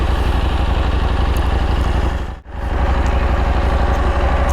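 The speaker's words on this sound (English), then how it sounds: "You get a good exhaust note." An adventure motorcycle's exhaust note, from a comparison of a KTM 890 Adventure R and a Yamaha T7, drones loud and close as a steady, even engine pulse, briefly dipping midway before resuming, with no talking.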